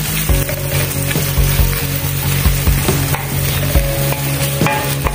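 Garlic and onion rings fry in hot oil with a loud, continuous sizzle, punctuated by repeated close knocks and scrapes of a utensil against the pan, with no talking.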